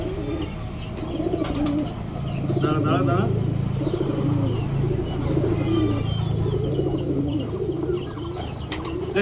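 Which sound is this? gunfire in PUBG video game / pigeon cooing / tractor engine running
pigeon cooing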